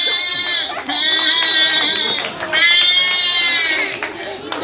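A human voice imitates goats bleating, producing repeated wavering, nasal bleats in two long bursts with short breaks between them, loud and close.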